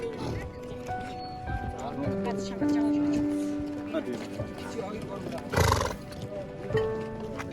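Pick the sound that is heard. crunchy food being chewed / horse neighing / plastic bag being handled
horse neighing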